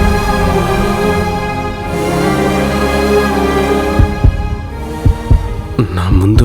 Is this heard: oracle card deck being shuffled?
no